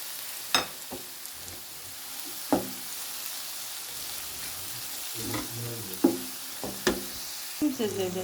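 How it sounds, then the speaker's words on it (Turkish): Chopped potatoes, zucchini and other vegetables sauté in a pan with a low steady sizzle, broken by sharp clacks and scrapes of stirring at irregular intervals, fairly close. "şimdi kavruluyor."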